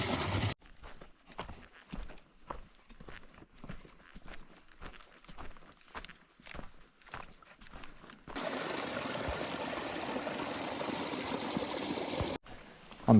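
Footsteps crunch along a backcountry trail between Darby and Anaconda, Montana, before a steady rush of stream water takes over as a bottle is topped up from the flow, then the gush stops abruptly.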